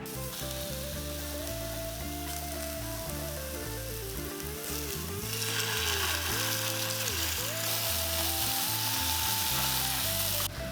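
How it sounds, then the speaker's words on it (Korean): Tofu, sauce, mushrooms and vegetables sizzle steadily in a pan as they are stir-fried, with a constant frying hiss and occasional scraping of the utensil, under light background music. "마지막으로 소스와 두부를 넣고 볶아주세요"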